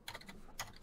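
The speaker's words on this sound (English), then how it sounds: "I can hear you typing" Typing on a computer keyboard during an online game session, a quick cluster of soft clicking keystrokes followed by a couple of sharper taps, faint and close.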